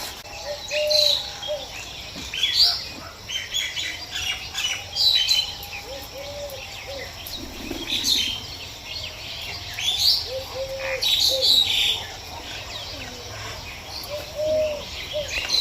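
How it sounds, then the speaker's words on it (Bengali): Birds chirp and call repeatedly around a house rooftop in the morning, with pigeons nearby, intermittent bright tweets over a steady background of cricket-like insect trilling. "দেখলে কত পাখির আওয়াজ!"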